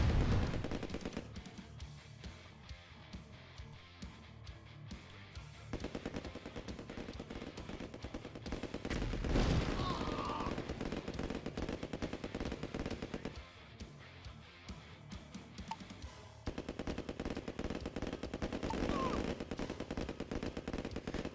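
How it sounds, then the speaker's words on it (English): Gunfire from units fighting in an eight-player free-for-all match of Command & Conquer Red Alert Remastered, with rapid bursts of shots and explosions layered over game sounds and music throughout, mostly steady and fairly loud. "I can hear something shooting still"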